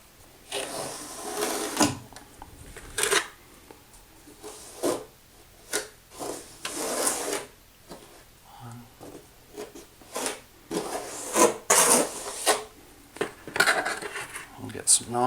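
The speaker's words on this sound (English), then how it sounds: "So same idea, we just got to get some mortar on the wall." A trowel spreads mortar onto a Kerdi-Board wall, producing repeated close scraping and smearing strokes in irregular bursts with short pauses between them.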